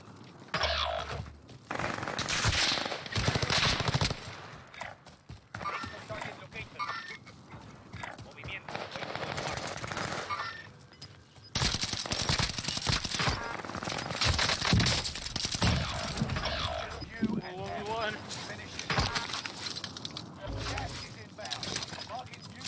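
Rapid bursts of automatic gunfire and sharp shots in Call of Duty Warzone Rebirth, a welgun firefight with loud, dense volleys throughout, mixed with players talking over voice chat.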